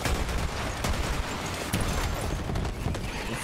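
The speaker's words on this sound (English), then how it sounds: "It's holding a machine gun." Machine gun fire in Borderlands 3 rattles continuously for a few seconds as a dense, harsh barrage with sharper cracks poking through.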